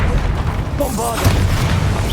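Bombarda explosion spell cast in Hogwarts Legacy, a booming burst with a rumbling low tail that holds through the whole short stretch, with a brief tonal chime over it and no talking.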